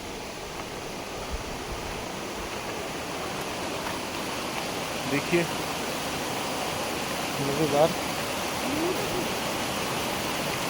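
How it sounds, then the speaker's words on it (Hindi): A jungle river near a temple path in Amboli flows downhill in a steady, broadband rush, with someone speaking briefly over the constant water noise. "ये शायद वो नदी है जो वहाँ से शुरू होती है"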